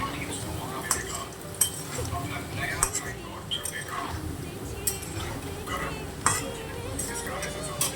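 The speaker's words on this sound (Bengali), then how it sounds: "এখানে আলুটা ভাজা হচ্ছে।" Potatoes fry in a pan at an outdoor picnic cookout, with steady sizzling, stirring scrapes and occasional clinks of a utensil against the pan, heard close and continuous under a busy background.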